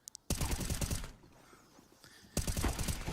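Bursts of rapid automatic gunfire ring out during a Counter-Strike: Global Offensive professional match, Astralis versus BIG at IEM Katowice 2022. A short volley is followed by a quieter gap, then another sharp burst of shots.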